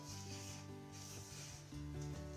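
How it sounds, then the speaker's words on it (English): Spatula scraping down the sides of a mixing bowl of batter in a home kitchen, a few faint rubbing strokes in a quick irregular rhythm, close by and alone. "I am going to scrape down the sides of my bowl"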